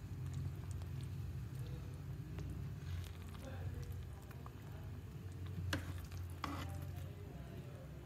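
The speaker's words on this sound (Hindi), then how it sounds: "इसे फिर हम 5 से 7 मिनट तक के बिल्कुल लो फ्लेम पर पका लेते हैं ताकि दूसरी साइड से भी बैंगन अच्छी तरह गल जाए" Eggplant pieces frying in oil over a very low flame for bhagare baingan, a soft continuous crackle and sizzle close by, with a couple of brief stirring scrapes.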